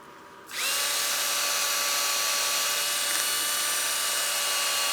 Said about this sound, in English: I'm sanding this all now